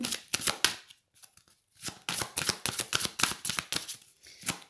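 Tarot cards are riffled and shuffled in quick, crisp bursts, with a brief pause in the middle before the rapid flicking and snapping resumes, close and clear with no talk.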